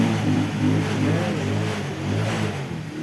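Newly installed engine driving a water pump at a pig farm, a steady, fairly loud mechanical hum with a regular pulsing throb throughout.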